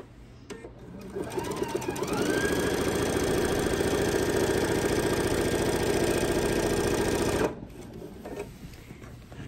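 A sewing machine stitches down quilt binding on a small quilt, running steadily for about five seconds after a brief start-up, then stopping, with faint handling noise around it.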